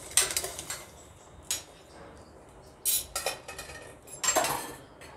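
A spoon mixes a pinch of salt into hot chocolate, giving a few scattered metallic clinks and scrapes against the vessel, close and fairly quiet, with no voices.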